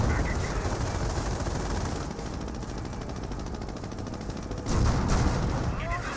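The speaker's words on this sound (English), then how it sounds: "Calliope rocket barrage right on in." A Calliope rocket barrage in the video game Company of Heroes, heard as a thick roar of explosions and gunfire that swells near the end, with a voice talking over it.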